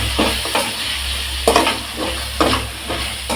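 Potato and drumstick pieces sauté in a hot pan, with a loud, close sizzle and several sharp scraping stirs at irregular intervals over a low steady hum.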